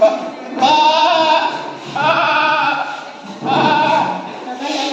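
A voice mimics a goat with three long, quavering bleats separated by short pauses, close to the listener.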